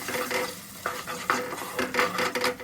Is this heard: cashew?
yes